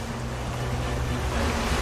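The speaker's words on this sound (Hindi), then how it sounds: "और समुद्री लहरें लगभग 40 फीट ऊंची उठकर बहुत तेज वेग में मंदिर की ओर चल पड़ती हैं" A stormy sea in a 2D animation about the Jagannath temple, with waves about 40 feet high surging fast toward the temple. A loud, continuous roar of churning surf and wind rumbles unbroken throughout.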